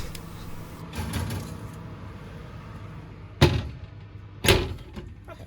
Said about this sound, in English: Me just struggling to open the oven.